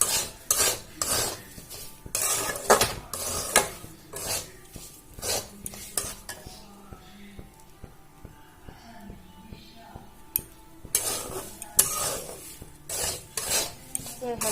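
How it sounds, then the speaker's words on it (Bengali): A metal spoon scrapes and clatters in a pan of frying semolina with green chillies, in repeated bursts of stirring separated by brief quieter pauses. "চারটে কাঁচা লঙ্কা দিয়ে দেবো আবারও ভালো করে নাড়াচাড়া করে নেবো"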